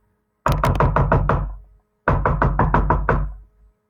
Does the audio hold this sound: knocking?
yes